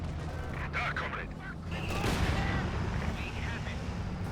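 Gunfire from a PaK 40 anti-tank gun and troops in a Company of Heroes 2 battle, a few muffled shots and blasts spread over a steady rumbling battlefield din, with a voice speaking over it.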